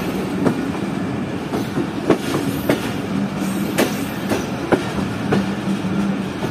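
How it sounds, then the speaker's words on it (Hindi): Pak Business Express train creeping slowly into Sahiwal railway station over track under repair, wheels clacking in an uneven rhythm with sharp periodic clicks over a steady low rumble, close and moderately loud. "तो ट्रैक पर काम चल रहा है जिस वजह से ट्रेन काफ़ी स्लो अप्रोच कर रही है साहिवाल रेलवे स्टेशन पर।"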